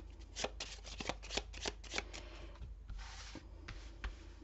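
Tarot cards being reshuffled by hand, a close, dry run of riffling and sliding card bursts in quick uneven clusters, continuing steadily without any talk.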